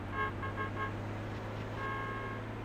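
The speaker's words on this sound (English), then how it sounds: "Yeah, you better honk" Car horn honking in a driving video game, a few short repeated toots over a steady engine drone, then one longer blast near the end, moderately loud.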